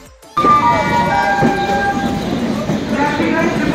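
A train rolls through platform number 2 at Fatehpur station on the way to Prayagraj, its loud, steady rumble starting abruptly and continuing with a sustained horn-like tone, close and dominant throughout.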